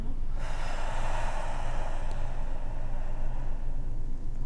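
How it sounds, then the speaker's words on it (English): A single loud exhale during a beginner meditation session, a breathy rush of air starting abruptly and sustained for several seconds, close to the microphone. "I'm breathing out."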